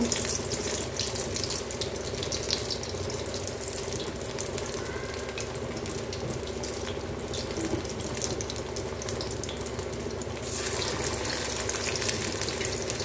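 Flattened bitter gourd vada frying in hot oil, a steady, loud, dense sizzle that continues without a break, with no talking.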